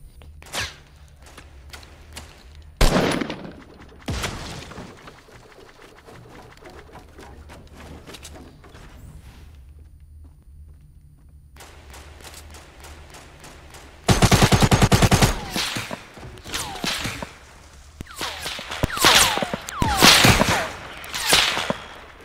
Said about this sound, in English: Definitely a semi sniper.